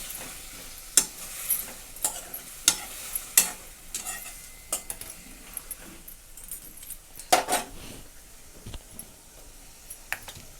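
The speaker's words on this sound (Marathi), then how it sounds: "बटाट टाकून छान असं तेलामध्ये मिक्स करून घेते" Potatoes stirred and fried in oil in a pan with a utensil for a Marathi mixed spinach and potato bhaji, giving repeated sharp scrapes and clinks at irregular intervals over a soft, continuous sizzle.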